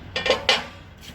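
Metal grate set into a Liseo L71 three-sided fireplace stove, heard as a few quick close clanks and scrapes of metal on metal, with a fainter knock at the end.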